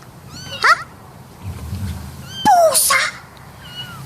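A cat meows a few times from a farm setting, with two or three short, rising-and-falling calls spaced across the clip over low background noise, and no talk.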